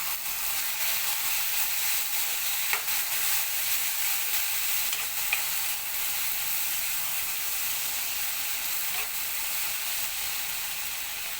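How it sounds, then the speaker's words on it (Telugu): Eggplant and chana dal curry being stirred in a pan after ground coriander goes in, a steady close sizzle and hiss of frying with a few faint scrapes of the spoon, no voices. "ఇవి బాగా కలుపుకున్నాం కదండి"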